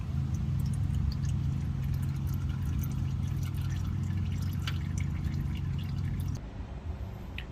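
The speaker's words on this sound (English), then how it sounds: "We let it finish draining the rest of the way until it ain't nothing but dripping" Engine oil drips and trickles from the drain plug beneath a car during an at-home oil change, a steady low splattering patter that runs for several seconds before easing near the end.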